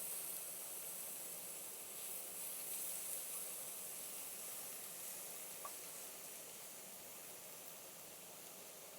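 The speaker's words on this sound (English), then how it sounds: "Pan sizzle ASMR." Prawns frying in a hot pan give a steady, faint hiss of sizzling that holds evenly throughout with no talk over it.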